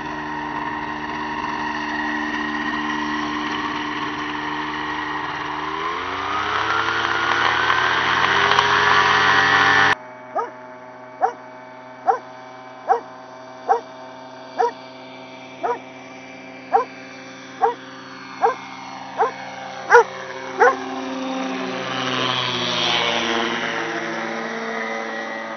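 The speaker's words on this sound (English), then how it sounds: "the beginning of the journey as Kevin takes off in his ultralight plane" An Aventura ultralight plane's engine drones steadily and rises in pitch during takeoff. Partway through, a run of sharp, evenly spaced bursts cuts over the lower engine sound.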